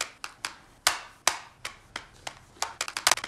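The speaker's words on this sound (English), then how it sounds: "Round of applause for Rihanna." Scattered hand claps, a sparse, irregular handful of sharp claps that speed up briefly near the end, close and fairly quiet with no talking.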